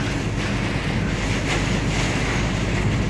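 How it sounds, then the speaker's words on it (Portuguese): Windy rainstorm on a poorly maintained highway, a steady loud broadband roar of gusting wind and rain filling the whole clip without pause. "A chuva é com vento e aí ela até tá um barulhão aí"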